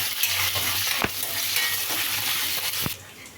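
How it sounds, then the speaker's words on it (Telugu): Curry leaves fry in hot oil with a steady, bright sizzle, broken by a few sharp stirring clacks of a spoon against the pan, close and fairly loud with no talking. "ఇప్పుడు కరివేపాకు వేసుకోవాలి."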